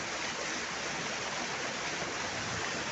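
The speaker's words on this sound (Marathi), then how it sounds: "धबधबा पण मस्त आहे बघा खूप छान असं उंचावरनं पडतो" A waterfall pours down from a height beside a road, a constant broadband roar of rushing water, steady and fairly loud throughout.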